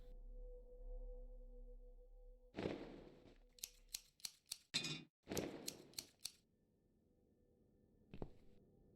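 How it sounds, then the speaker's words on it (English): Scissors snip through a dress in a quiet room, with a quick run of crisp cuts in the middle and a single snip near the end, each one sharp and close. "I'll need some scissors for that."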